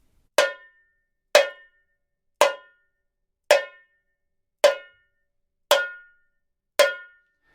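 Tamborim struck with the chapado technique in a Carreteiro rhythm: seven sharp, bright metallic hits, evenly spaced about a second apart, each ringing briefly and decaying into silence, loud and close with no talking.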